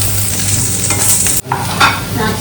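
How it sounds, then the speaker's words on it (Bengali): Mushrooms frying in a small pan in a hot home kitchen on high flame, a steady loud sizzle with stirring scrapes, a brief break midway before the frying noise picks up again. "একটু লাল লাল করে ভাজা হোক।"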